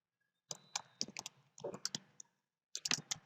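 Computer mouse clicks while working in Visual Studio 2013 on a C# sales system: short bursts of quick, close, sharp clicks, with gaps of silence between the groups.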